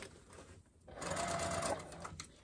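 A sewing machine backstitching a side seam on a fabric car trash can, a short close burst of fast mechanical whirring and needle clatter that pauses briefly, then runs again at higher speed.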